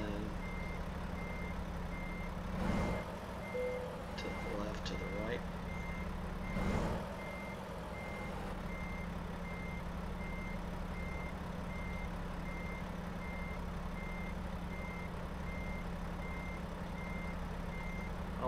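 Repeated reversing beeps from a simulated truck backing up a trailer in American Truck Simulator, steady and evenly spaced throughout over a low engine hum, with two brief louder bursts early on.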